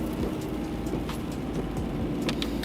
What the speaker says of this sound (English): this rain combined with fog